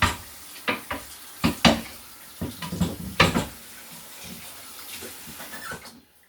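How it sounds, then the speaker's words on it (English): Hands rinsed under a kitchen sink tap, with running water and several sharp splashes and clatters in uneven bursts, close and moderately loud, no talking. "Give my hands a fast rinse off."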